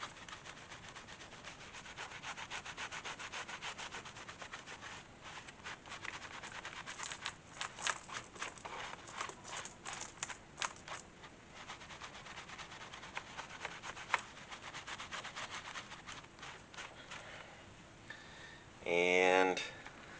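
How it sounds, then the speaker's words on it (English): Light buffing of a leather holster, a soft steady rubbing and brushing texture with faint scratchy strokes throughout, ending in a brief louder burst near the close; no speech. "I'm just lightly buffing it."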